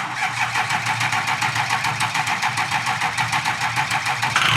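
A Jeep truck's engine cranks over with a fast, steady, rhythmic starter whir after its battery has been charging, loud and close with no one talking, picking up slightly right at the end.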